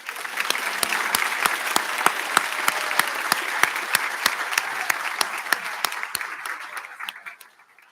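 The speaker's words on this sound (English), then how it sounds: "Let's give them a round of applause" Award recipients at a high school senior awards night get sustained crowd applause, with a few loud, crisp claps close by standing out over the steady roar before it fades out at the end.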